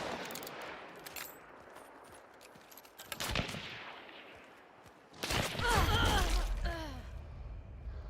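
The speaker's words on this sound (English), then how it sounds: "What gun is that, dude? It's shooting so fast." Rapid gunfire in the video game Hunt: Showdown, with bursts of quick shots, a sharp cluster midway and a louder dense volley with ringing echoes toward the end, over a steady ambient game background.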